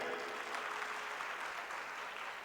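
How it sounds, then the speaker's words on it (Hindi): Steady audience applause from a seated crowd at a university birthday celebration, a dense even wash of clapping lasting a few seconds with no other sound. "एक बार पुनः ताली बजाइए"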